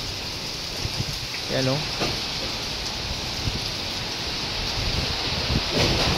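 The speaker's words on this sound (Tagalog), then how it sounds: "Parang umiikot-ikot yung ulan, hindi na gano yung ulan, pero yung hangin." Strong wind roars steadily during a storm with light rain, a broad continuous rush filling the whole stretch, while a person speaks briefly near the start.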